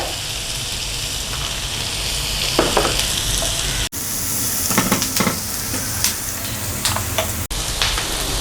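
Capsicum and chili flakes stir-frying in a hot pan for chilli fish, a steady loud sizzle with brief scraping stirs and two short breaks in the sound.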